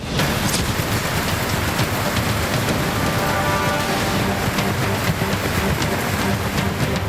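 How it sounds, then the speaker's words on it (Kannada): Heavy, unbroken rain pours down on a flooded road in Ramanagara, a dense steady hiss that fills the whole clip at even loudness with no voices. "ನಿರಂತರ ಮಳೆಗೆ ಕೆರೆಯಂತಾದ ರಸ್ತೆ."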